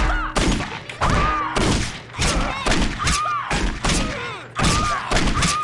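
Repeated gunfire bursts in Postal 2, loud, heavy thumping shots coming in rapid clusters throughout, with brief gaps between volleys.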